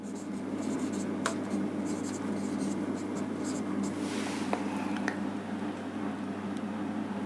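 Pen writing an equation by hand on paper, with scratchy strokes and taps running steadily through the stretch over a constant low hum, close and clear.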